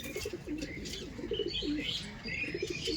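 Madras pigeons coo in soft, repeated rounds at a pigeon sale, close and steady, with occasional chirps and light wing flutters over low background noise.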